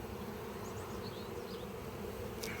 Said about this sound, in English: there are enough bees in there to make a double brood